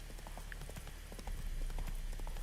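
Hooves of a horse clip-clopping in a rapid galloping rhythm across a video game landscape, steady and fairly close throughout, with a faint low background hum.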